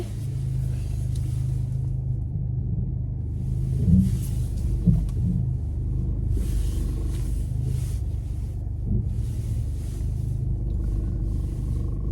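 A car being driven produces a steady low engine and road rumble from inside the cabin, continuous and fairly loud, with faint bumps and hiss and no voices.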